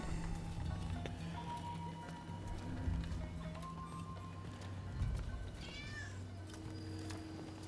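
A cat meowing in the video game Rise of the Ronin, faint high mews rising out of a busy game soundscape with hoof clip-clops and ambient noise, quiet and distant under the mix.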